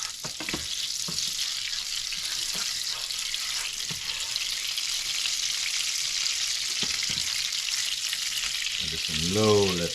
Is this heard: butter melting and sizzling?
yes